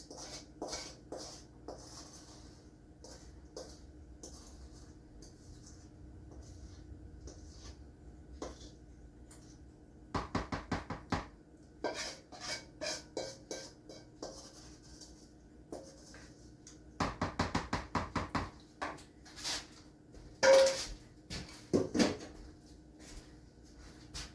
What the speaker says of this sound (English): You're going to mix this in to your dry ingredients